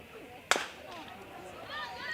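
A softball bat hitting the ball down into the ground at a South Australia vs Victoria game, one sharp crack near the start, then crowd noise and commentary carrying on.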